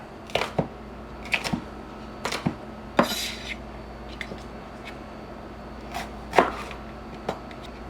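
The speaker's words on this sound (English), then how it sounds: "We'll slice this up." A knife slices through a bell pepper on a cutting board for chicken fajitas, giving sharp, irregular chopping taps spaced across the stretch with quiet pauses between them.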